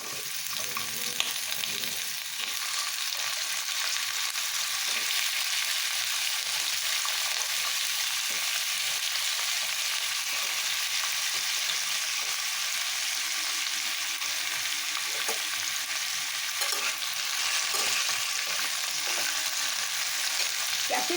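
Potatoes fry in hot oil with a steady, even hiss of sizzling that holds at a moderate level, with faint occasional stirring taps and no voices.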